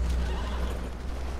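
A horse in the video game Red Dead Redemption 2 whinnies loudly and close, a drawn-out neigh over a low rumbling background, with faint hoof clatter.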